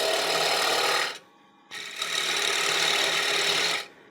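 A box scraper cuts into spinning wood on a lathe, giving a harsh, continuous rasping scrape in two bursts separated by a short pause.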